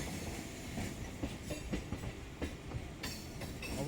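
A passenger train runs toward Padmapukur station, a steady close rumble with clickety-clack wheel beats on the rails and occasional brighter rattles, heard from on board with no voices.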